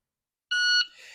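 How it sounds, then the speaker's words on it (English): A shot timer gives a single sharp electronic beep lasting about a third of a second after silence, loud and close, then fades into faint room noise. "I've got a shot timer that'll give me two beeps,"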